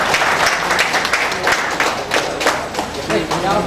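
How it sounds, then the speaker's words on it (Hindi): Loud, close applause from an audience at a farmers' fertilizer meeting in Bihar, with dense rapid clapping that continues without a break and some crowd voices mixed in. "तालियां बजती रहे थोड़ी थोड़ी तो।"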